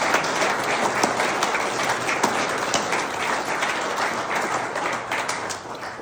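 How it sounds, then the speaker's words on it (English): Sustained applause from a large audience, dense and even, tapering slightly toward the end. "a round of applause for Claude."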